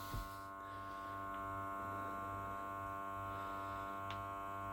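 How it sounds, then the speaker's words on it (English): A vacuum sealer pulls the air out of a bag of pancetta with a steady, low electric motor hum and drone that holds evenly throughout, fairly quiet, with no talking. "you can see all the air being sucked out of that bag now"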